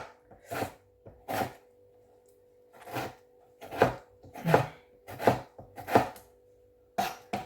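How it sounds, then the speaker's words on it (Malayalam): Onion, ginger, garlic and tomato being chopped on a board with a knife, about a dozen sharp close knocks in irregular clusters separated by brief pauses, under a faint steady hum. "സവാള, ഇഞ്ചി, വെളുത്തുള്ളി, തക്കാളി, ഇത്രയും സാധനം വേണം. അപ്പോൾ അതൊക്കെ അരിഞ്ഞിട്ട്"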